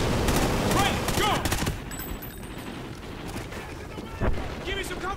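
Rapid bursts of automatic gunfire and scattered shots in a Call of Duty: Ghosts firefight, loud and dense at first, thinning to sporadic fire with a sharp late report, with shouted voices mixed in.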